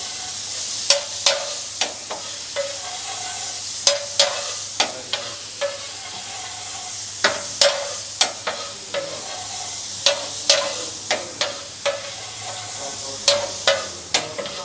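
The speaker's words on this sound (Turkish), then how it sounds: "Domatesimizi ekliyoruz. Güzel karıştırıyoruz içerisine bunu." Tomatoes stirred into a toast filling over a stove with olives, giving repeated sharp scraping clicks of a utensil against the pan in an irregular rhythm over a soft steady hiss.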